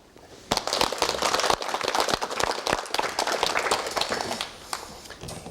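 A studio audience on a 1989 Korean TV talk show bursts into applause to welcome a guest, a dense clatter of clapping that holds for several seconds before tapering off.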